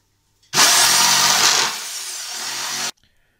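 A power tool saws through an old wooden skateboard deck, a loud continuous burst that drops to a lower-pitched steady cut partway through, then stops abruptly.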